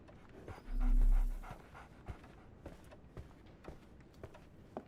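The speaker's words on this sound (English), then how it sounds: "So, Barnes has a dog" A dog pants softly in a Sherlock Holmes video game, with quick faint breaths alongside a brief low rumble and scattered light footstep-like taps; no one speaks.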